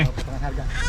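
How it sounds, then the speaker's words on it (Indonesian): A goose at Taman Safari Indonesia in Puncak, Bogor gives a brief, fairly close honking call amid outdoor background noise. "hewan pertama yang kami lihat yaitu angsa"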